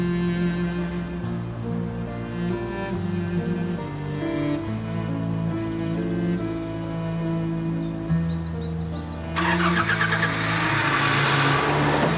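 A car engine runs steadily with shifting tones alongside a musical background, the level holding even and then brightening toward the end, with no talk over it.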